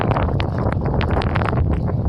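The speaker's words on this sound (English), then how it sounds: "Yeah, pretty windy" Strong wind blowing during a cold snowstorm, a loud, close, continuous roar of gusts buffeting the microphone with rough rumbling texture throughout.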